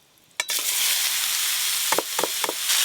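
Freshly cut ash gourd pieces dropped into hot mustard oil tempered with chilli and five-spice, bursting into a loud, steady sizzle after a sharp splash, with a few brief stirring scrapes near the end.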